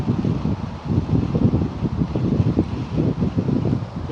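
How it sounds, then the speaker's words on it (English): Gusty wind blowing outdoors, buffeting the microphone with a steady low rumble and fluttering surges throughout, no voices. "We a bit windy today, Vincent."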